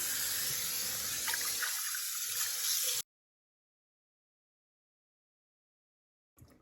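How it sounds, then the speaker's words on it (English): Tap water runs into a kitchen sink during a rinse, a steady close rushing stream for about three seconds before it stops abruptly into silence. "Now it's time just to rinse it all out, and then I'll have a nice clean sink."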